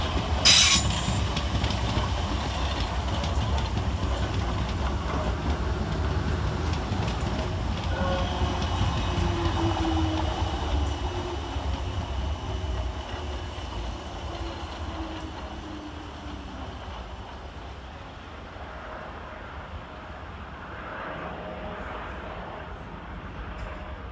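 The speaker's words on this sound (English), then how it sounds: "Next into the station is 455741 and 455708, with the 1913 South Western Railway service from London Waterloo to Kingston" Two coupled South Western Railway Class 455 electric units, 455741 and 455708, roll into Clapham Junction station, a steady rumble with wheel squeal and rail clatter, loud and close throughout, fading slightly near the end.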